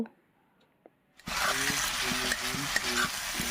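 After a near-silent moment, pre-fried bitter gourd drops into poppy-seed paste in a pan and sets off a loud, sustained sizzle with rhythmic scraping strokes of a stirring utensil.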